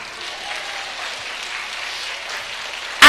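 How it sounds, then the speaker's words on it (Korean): Audience applause after a children's song at a church service with a Ugandan pastor, a steady wash of clapping from many hands, moderately loud and even throughout, ending in a sudden louder burst. "박수 주세요"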